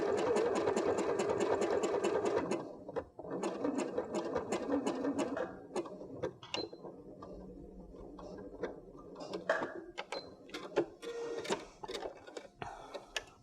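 A sewing machine stitches embroidery lines across a scrap denim mat, a steady fast mechanical whir for the first few seconds, then shorter bursts of stitching broken by pauses and clicks, close and clear with no talk.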